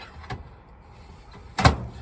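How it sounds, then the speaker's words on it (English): A motorhome cupboard door closes onto a tea towel tucked in its frame: a light tap, then a muffled, dampened thump without a sharp slam. "close the tea towel on the door, similar to here"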